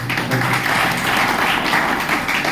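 An audience in a hall claps at a business event, a continuous busy patter of hands that stays fairly loud throughout the short burst.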